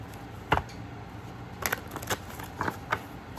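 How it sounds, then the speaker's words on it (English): A Golden Art Nouveau tarot deck is shuffled by hand, giving scattered soft riffling snaps and card clicks in short irregular bursts, close and quiet against a faint background hiss. "Shuffling the Golden Art Nouveau tarot deck."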